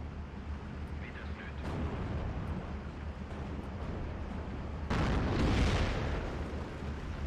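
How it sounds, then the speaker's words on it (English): Artillery shells bursting across a Karelia battlefield in the WWII strategy game Steel Division 2, a rumbling barrage of distant booms that swells into a louder, nearer blast about two-thirds through. "Gonna bring in a load of my artillery."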